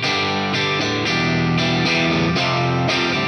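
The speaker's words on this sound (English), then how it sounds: "I'm gonna now go to a Celestion Greenback IR. This is a Greenback and a 412," Distorted electric guitar played through a Celestion Greenback 4x12 cabinet impulse response blended with a pair of room mics, heard as a loud, continuous run of chugging chords with sharp attacks about every half second and no voice.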